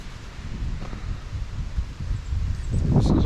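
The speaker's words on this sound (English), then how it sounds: "it's windy, so I'm trying to keep the towel from blowing away here" Wind blows across an outdoor truck campsite, a continuous low rumbling buffet against the microphone that grows stronger toward the end, close and steady with no talk.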